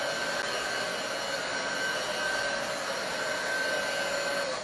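A hair dryer blows steadily at close range, a constant airy whoosh with a thin motor whine, unbroken and without speech.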